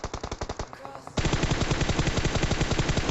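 Rapid automatic machine-gun spray in PUBG, a quick burst of shots, a brief pause, then a long unbroken stream of loud, evenly spaced gunfire.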